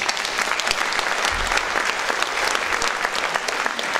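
A concert audience at a band's New Year's show claps loudly together, a dense, continuous burst of applause from a crowd filling the room.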